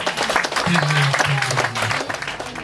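A church congregation claps loudly together, a dense close burst of applause, with a voice speaking over the clapping.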